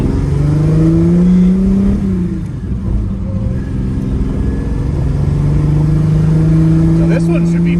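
A 1970 Marcos 1600GT with a six-cylinder engine heard from inside the car, a loud steady engine drone with a rising rev tone, a brief dip and then climbing again as it accelerates.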